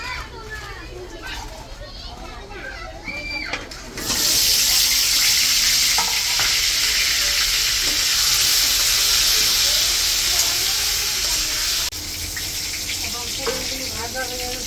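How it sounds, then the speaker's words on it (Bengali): Oil sizzling loudly as food fries in a pan, a steady bright hiss starting partway in and continuing to the end, with children's voices and speech before it begins. "এখন তেল দিয়ে দিলাম পুরোটা খাপার জন্য, পুরোটা ভাজার জন্য"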